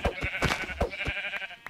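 Minecraft sheep bleat in a video game, several short nasal baa calls in quick succession, loud and close.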